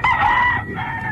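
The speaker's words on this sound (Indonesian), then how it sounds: "Ayam Dono berkokok di saat semua penumpang sedang tidur." A rooster crows once, loud and close, a drawn-out two-part call that fades slightly toward the end.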